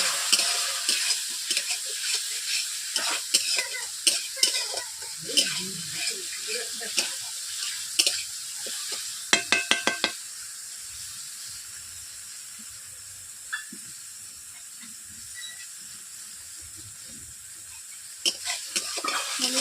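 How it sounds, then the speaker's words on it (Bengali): Masala stir-cooked with water in a pan for potol chingri, a steady sizzle and hiss under repeated scraping stirs, with a burst of clattering strokes midway and a quieter simmer afterward. "এভাবে জল দিয়ে আমি 5 মিনিট কষিয়ে নিচ্ছি মশলাটাকে।"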